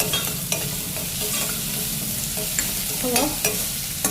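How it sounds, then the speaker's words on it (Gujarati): Tomatoes sizzling in a hot oil tempering with ginger, chili and garlic: a continuous close sizzle broken by scattered spoon clinks and stirring scrapes in the pan. "તો એકલા ટામેટામાં ખાલી વઘાર દેવાનું. અને આપણે આદુ મરચાં લસણ રાખ્યું હતું ને એ એડ કરી દીધું."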